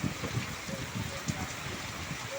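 Heavy rain pours down in a steady, dense roar with scattered dull knocks and splashes. Muffled voices sit faintly under the downpour.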